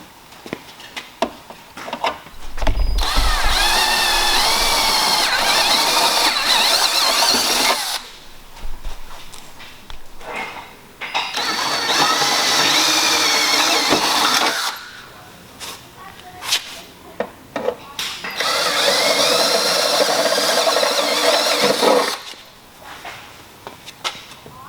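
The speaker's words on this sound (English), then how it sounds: "now we're ready to go in with the bigger bit for the easy installation of the tailgate table" A power drill with a larger bit bores holes for a tailgate table install on a 2022 Ford Bronco, running in three long, loud, whining bursts with short pauses and clicks between them.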